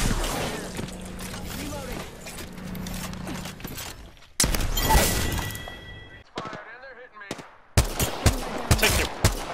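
Rapid automatic gunfire in the shooter game Apex Legends, loud bursts of shots with impacts and crashes coming in several waves, under shouted squad talk and game voice callouts.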